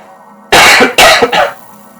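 A sharp cough bursts out, then a second harsher cough right after, close and loud, with quiet room noise before and after.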